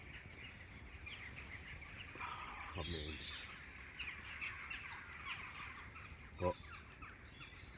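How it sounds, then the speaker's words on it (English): Crows caw at dusk in Scottish woods, a few scattered calls rising over quiet rustling near a campfire, with a louder call around the sixth second and a man murmuring briefly. "did you hear them starting there? The crows."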